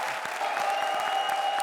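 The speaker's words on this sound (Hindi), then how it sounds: "जोरदार तालियां" Studio audience on the Hindi TV comedy show Comedy Circus breaks into steady, dense applause after a comedy act, a continuous wash of clapping with no voices over it.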